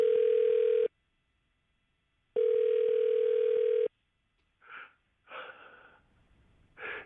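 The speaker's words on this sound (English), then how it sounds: "Let me dial this up." Two long steady tones ring out, separated by a pause, like a phone line ringing; afterward a few soft breathy sounds follow.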